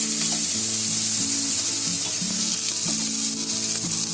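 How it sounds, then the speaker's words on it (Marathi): Onion, green chili and garlic fry in a pan, a steady close sizzle with intermittent stirring scrapes and clatter running throughout, no voices. "आता आपला कांदा, मिरची आणि लसूण चांगले फ्राय झाले।"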